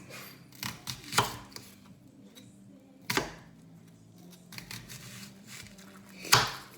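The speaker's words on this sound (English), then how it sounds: "So to cut the onion, you hold it over and you put the knife in through it like it's going under a bridge" A knife cuts through an onion on a board while chilli con carne is being made, giving a few sharp, separate chops spaced a couple of seconds apart, close and clear with quiet pauses between.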